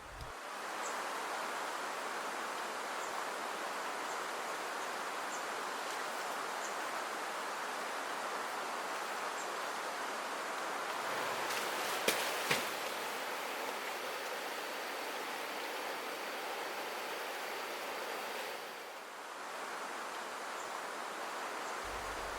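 The strong current of the Lematang River rushes in a continuous, even roar of flowing water, steady and fairly close, with no voices over it.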